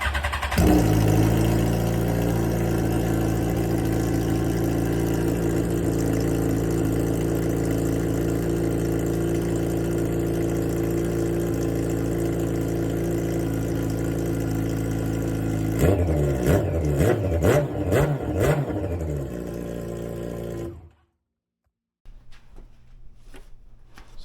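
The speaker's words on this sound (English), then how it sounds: "Raw sound of a straight piped FZ1000." A straight-piped Yamaha FZ1000 motorcycle engine runs loud and close, with a steady rough idle, then a brief series of throttle blips before it cuts off abruptly into near silence, followed by faint clicks.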